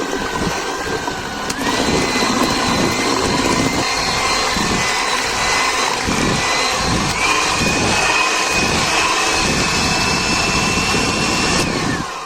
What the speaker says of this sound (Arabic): كده بقى هنحاول نضرب المضرب الكهربائي زي ما احنا شايفين كده